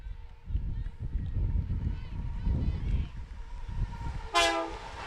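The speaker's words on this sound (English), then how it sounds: "A northbound freight train." A northbound freight train rumbles past at a soccer game, low and steady, with a loud horn blast near the end over crowd noise and commentary.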